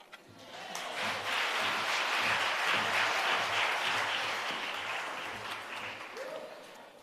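A workshop audience in Bloemfontein breaks into sustained applause, a dense wash of clapping that swells and holds steady for several seconds before easing slightly near the end.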